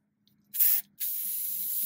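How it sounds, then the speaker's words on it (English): Two bursts of aerosol lubricant sprayed onto the threads of cotter pins on a C10 truck conversion, a short hiss followed by a longer steady spray, close and loud with no talking. "Now what we're going to do is just spray a little lube on these things."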